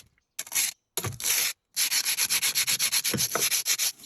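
Wooden beads rubbed with sandpaper give short, raspy scraping bursts, first in a few separate strokes and then in a quick steady back-and-forth rhythm, close and clear with no talk.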